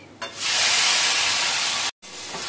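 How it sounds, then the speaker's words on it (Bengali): Onion hits hot oil for a mutton curry and sets off a loud, sudden hissing sizzle. The sizzle holds steady for over a second, stops briefly, then resumes more quietly. "পেঁয়াজটা দিয়ে দিচ্ছি"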